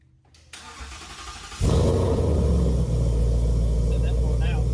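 Car engine cranking and firing up in a Chevelle build shop, then settling into a loud, steady rumbling idle without revving.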